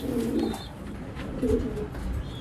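Pigeons coo softly nearby in low, throaty bursts, two or three calls rising and fading against a faint background.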